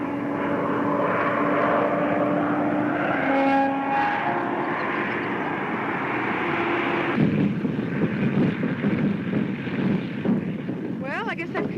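A propeller stunt plane drones loudly and steadily overhead during an afternoon air show performance, with an engine pitch sweep midway and a brief voice near the end.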